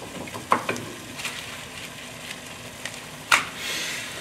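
Onion and shallot sizzling gently in melted butter in a pan, a soft steady crackle with a few sharper pops and stirring clicks, close and fairly quiet.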